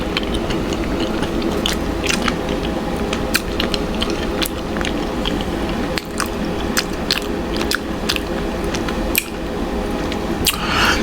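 Chocolate-stuffed marshmallows being bitten and chewed close to the mic, with soft squishy chewing and scattered sticky clicks over a steady, loud background hiss.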